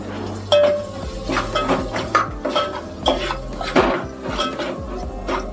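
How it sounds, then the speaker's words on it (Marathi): A utensil scrapes and clinks repeatedly against a pan as onions are stirred in tempering oil, in an uneven rhythm of close, clattering strokes. "कांदा पण ढवळून घेऊया आपण।"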